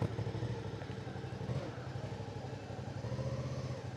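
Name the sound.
motorcycle engine running while being fixed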